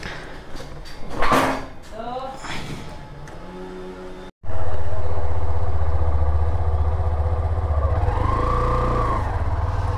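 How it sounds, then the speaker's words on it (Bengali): An Xtreme 125R motorcycle starts after a brief gap of quiet, then its engine runs with a loud, steady low rumble. Speech and light handling noises come before it, and talk continues faintly over the idle. "আমি এখন নিয়ে যাব এক্সট্রিম বাইকটা"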